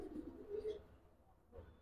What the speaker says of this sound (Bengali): এগুলা এমনি বিগ সাইজের কবুতর তো